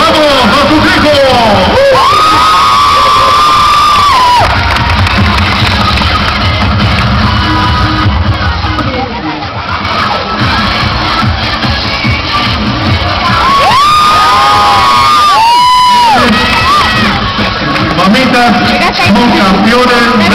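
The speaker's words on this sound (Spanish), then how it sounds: "fuerte el aplauso, ¡vamos a su hijo!" Loud crowd at a junior cheerleading competition, with continuous cheering, shouting children and hubbub, punctuated by sweeping amplified tones and bangs, and voices throughout.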